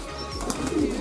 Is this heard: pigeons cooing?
yes